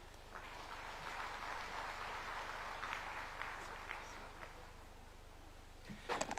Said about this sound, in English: Another round of applause for Cabinet Secretary Alice Wahome